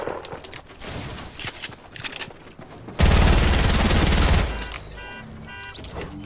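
Automatic gunfire in a competitive shooter video game, rapid bursts of shots with one long sustained loud burst in the middle, rattling close and dense.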